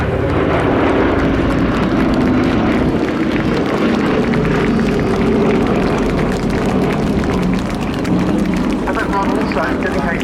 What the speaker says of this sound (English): Final run for the B-17G Flying Fortress